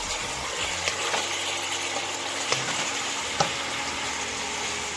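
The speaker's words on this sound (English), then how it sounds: "we're gonna keep stirring for a minute" Spiced food frying in a pan while being stirred, a steady, fairly quiet sizzle with a couple of sharp utensil taps against the pan, close by and without talking.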